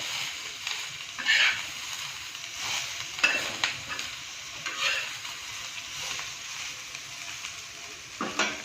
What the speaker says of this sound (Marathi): आता मी ही कोथिंबीर मुडवर घेतलेली ह्याच्यात तोडून टाकते आता मी थोडीशी परतते